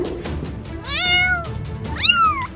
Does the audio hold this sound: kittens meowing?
yes